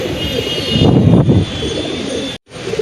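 A pet pigeon coos close by in a low, throaty burst, with a steady background hum and a brief dropout near the end.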